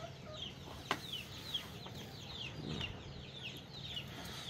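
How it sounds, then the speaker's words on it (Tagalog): Chickens cluck and chatter repeatedly nearby, overlapping calls over a low background rumble, with a couple of sharp clicks. "Tsaka yung mga manok natin guys."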